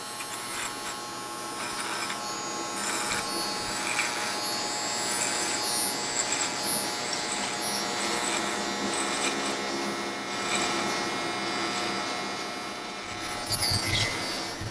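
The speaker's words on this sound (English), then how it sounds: "Now I'll shave that with Easy Blade." An Easy Blade electric shaver running steadily close up as it shaves hair during a fade haircut, a continuous buzzing hum with light rubbing and scraping over the scalp, no talk.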